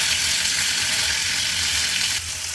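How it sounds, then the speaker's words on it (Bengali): Katla fish fries in hot oil, a loud, unbroken crackling sizzle that dips slightly just before the end. "তো আমি মাছটা প্রথমে ভেজে নিচ্ছি।"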